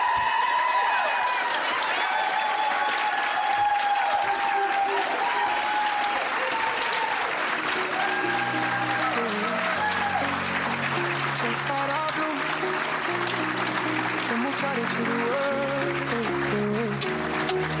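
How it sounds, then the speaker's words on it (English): Prolonged applause from a graduation audience honoring associate degree nursing graduates on a college campus, continuous and full, with music rising beneath it partway through. "let's give all these future registered nurses a round of applause"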